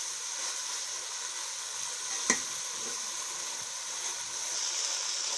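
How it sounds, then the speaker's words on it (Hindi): Vegetables frying with vinegar for chicken pasta give off a steady hissing sizzle at moderate volume, broken by one sharp clack of a utensil and light stirring sounds, with no talking. "और थोड़ी देर के लिए इन सब्जियों को भूनेंगे।"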